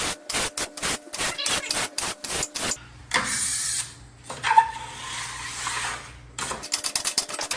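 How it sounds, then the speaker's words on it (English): A metal scraper rasps grease off a stove in a quick run of short, rhythmic strokes, then a few longer drawn scrapes, close and fairly loud with no voices. "You take the scraper and you scrape all that grease."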